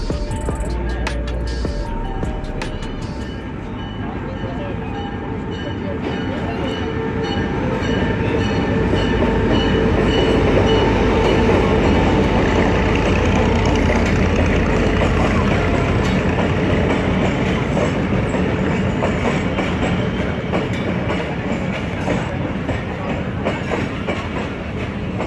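A train passes through Drigh Road railway station, a loud, steady rumble with rhythmic clickety-clack of wheels on track that swells in the middle and continues throughout, close by.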